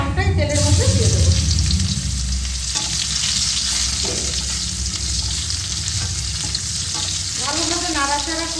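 Raw mango pieces go into hot oil with nigella seeds and dried red chili, giving a loud, close, continuous sizzle and crackle with stirring scrapes and a few brief voice fragments.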